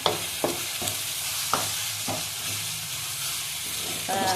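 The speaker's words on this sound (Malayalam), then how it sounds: "അതിൻ്റെ എണ്ണയിൽ സവാള വാടിക്കൊണ്ടിരിക്കുകയാണ്" Onions softening in hot oil in a pan for a chicken and tapioca dish, a steady bright sizzle throughout with several sharp stirring scrapes spaced through it, close and fairly loud.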